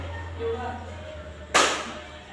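One sharp hand clap lands in a counting-and-clapping game, a single close, bright burst over a quiet room with a low hum.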